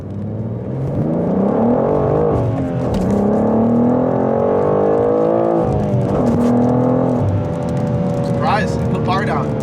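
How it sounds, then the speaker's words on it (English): A BMW G87 M2 pulls hard from a first-gear rolling start, its loud engine note climbing steadily, dipping briefly at about three and six seconds before rising again, with faint tire and wind noise near the end. "I'm gonna try a 1st gear rolling start."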